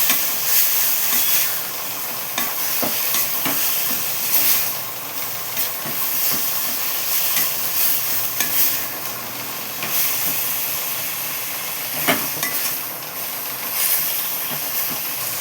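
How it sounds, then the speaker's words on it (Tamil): Ginger and garlic sautéing in a pan for mutton sukka give off a loud, continuous hiss, with occasional light clinks and scrapes. "இஞ்சி பூண்டு போட்டுக்கணும். நல்லா வதக்கலாம்."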